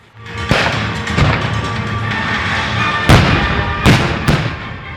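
Heavy booming blasts of artillery fire at a battle reenactment with 13 guns and 16 heavy vehicles, four or five loud reports spaced irregularly over a rumbling background.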